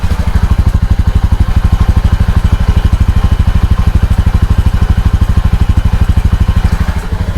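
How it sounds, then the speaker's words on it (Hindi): A motorcycle exhaust idles loudly and steadily, a rapid even thumping pulse that continues without pause, close to the pipe. "उसके बाद साइलेंसर का साउंड सुन लो, आपको पता चल जाएगा।"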